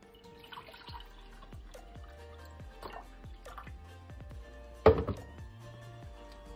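Bottled Crystal Geyser water poured into a cup, heard as a series of soft, close drips and small liquid plinks at an irregular rhythm, with one louder splash or thunk near the end; no one speaks.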